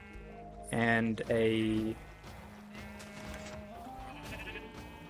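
Sheep bleating on a Minecraft sheep farm, a loud close bleat near the start followed by a second, then soft game background and someone talking.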